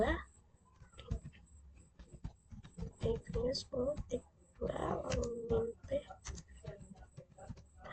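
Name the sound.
typing an SSH command on a computer keyboard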